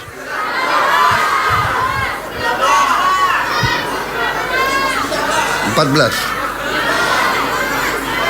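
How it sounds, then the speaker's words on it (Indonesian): A large crowd, many of them children, shouts answers in unison at an outdoor dam inauguration, a loud sustained roar of overlapping voices and cheering that swells and fades over several seconds. "Kalau semua teriak saya nggak bisa dengar."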